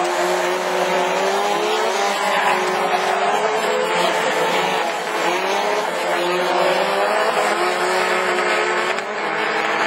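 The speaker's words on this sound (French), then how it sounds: "Ah Daniel, ce que je comprends pas, c'est quand tu écoutes les Twingo, les mecs qui restent au rupteur" Renault Twingo rallycross cars race at a track in Lessay, engines held screaming at the rev limiter in a loud, continuous wail with wavering pitch and some tire squeal, no talking heard.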